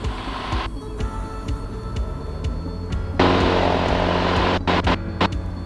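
A Cessna 170 tailwheel propeller plane's engine drones, then surges sharply louder and stays roaring on takeoff, heard from nearby with faint clicks.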